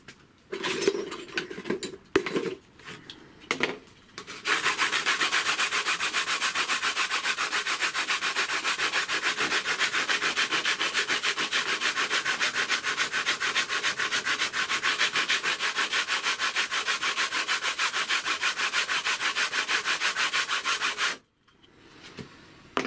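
Hand sanding rubs back the edge of an FR4 G10 laminate sheet in a long, steady, rasping scrub that stays close. A few short strokes come first, and a short pause follows.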